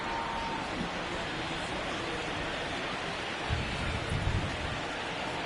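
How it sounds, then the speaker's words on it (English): Steady, heavy rain pours down in the MLB The Show 19 baseball game (Dodgers vs. Phillies): a dense, even hiss that stays constant throughout, with a faint low rumble swelling briefly near the end. "the rain starting to intensify here. It's coming down a little heavier now."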